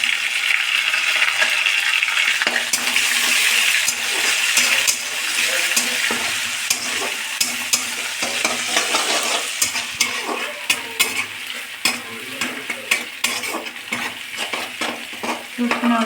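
Chopped garlic and ginger crackle in hot oil in a pan while cooking cabbage, a loud close sizzle that gives way to scattered clicks and spatula scrapes.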